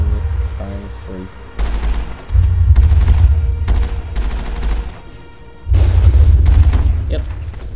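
Heavy weapon fire in Mass Effect sounds as loud booming bursts, several repeated blasts with deep rumbling bass and brief pauses between volleys.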